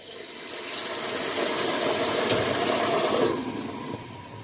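Syrup hits hot flour halva in a pan with a loud, steady steam-like sizzle that swells for about three seconds, then eases off, with no voices.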